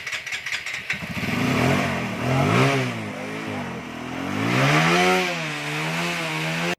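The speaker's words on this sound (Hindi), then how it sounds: "तो बाइक स्टार्ट हो चुकी है।" A TVS Apache RTR 180/160 motorcycle engine catches after several quick cranking pulses, then idles and revs up and down in smooth rising and falling swells, close and loud.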